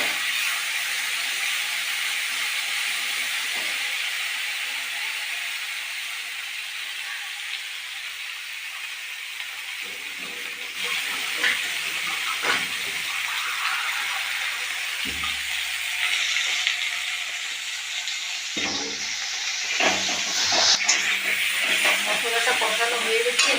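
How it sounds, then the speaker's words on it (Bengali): Ground spice paste fries in a pan for Bengali potato and papad curry, a soft continuous sizzle and hiss with occasional scraping stirs, steady and moderately loud without talk. "মশলাটা আমি কষিয়ে নেব।"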